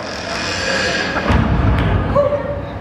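A door thuds shut with a low, heavy knock during the Busch Gardens Tampa Howl-O-Scream 2017 show, set against a continuous ambient backdrop.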